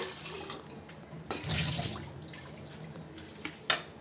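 Running water rinses a used, dirt-clogged RO water filter part, a low steady trickle with a fuller gush swelling around the middle and a couple of splashy drips near the end.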